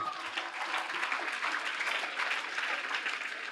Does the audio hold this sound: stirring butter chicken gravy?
no